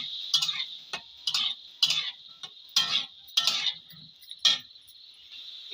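Stirring potatoes frying in hot oil in a pan, a continuous bright sizzle broken by regular scraping clinks of a utensil against the pan, about one stroke per half second, close and clear.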